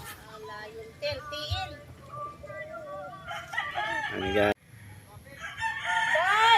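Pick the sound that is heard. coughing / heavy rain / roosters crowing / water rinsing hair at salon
roosters crowing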